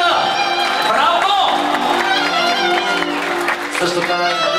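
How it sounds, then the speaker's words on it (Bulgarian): Applause for a mother at a family celebration, clapping and cheering from a gathered crowd that carries on steadily under loud talk and music, with a few whoops near the end. "Аплодисменти на майката! Браво!"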